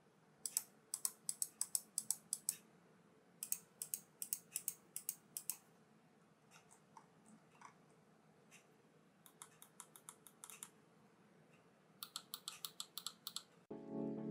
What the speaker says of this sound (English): Here's also a quick sound test for those who wanted to hear individual buttons.